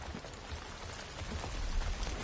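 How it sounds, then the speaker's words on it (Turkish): Steady rain falls in the video game The Last of Us Part II, a dense, even hiss of drops across the whole stretch with no voices. "yağmur falan da inanılmaz, müthiş"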